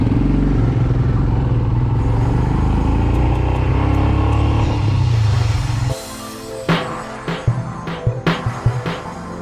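A Royal Enfield Himalayan BS4 motorcycle pulls away on a Sikkim road, its engine a close, steady low rumble that fades out halfway, followed by scattered clattering knocks and bumps.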